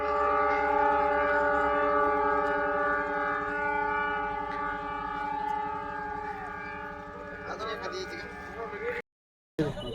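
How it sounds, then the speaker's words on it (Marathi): A train horn blares steadily for several seconds, loud and close, as the train departs a railway station on a high-speed trial run, with rumbling rail noise beneath and a brief dropout near the end. "आता राहेमाव रेल्वे स्टेशनवरून ही ट्रेन निघलेली आहे"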